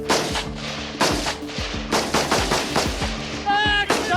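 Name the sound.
live-ammunition gunfire during a gendarmerie shooting drill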